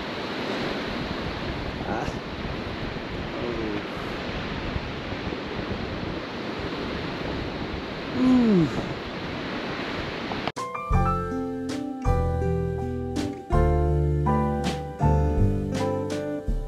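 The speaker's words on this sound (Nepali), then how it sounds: "हावा चलिरहेको छ एकदम सरर" Strong wind blows on a mountain trek toward Api Base Camp, a loud continuous rushing roar buffeting the microphone for about ten seconds, with a brief voice in it, before music takes over.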